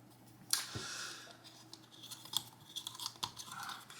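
A deodorant stick twisted counterclockwise, giving faint plastic clicks and scrapes that come in small irregular bursts, close and quiet.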